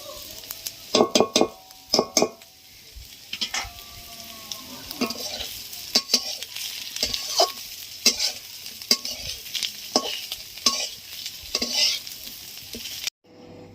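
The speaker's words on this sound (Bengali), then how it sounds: "এবারে ধনে জিরে ভাজাটা দিয়ে দিচ্ছি।" Cauliflower and potato are stir-fried with roasted coriander-cumin spice, a continuous close sizzle punctuated by frequent sharp metal spatula clinks and scrapes against the pan, loud and busy, with no voices.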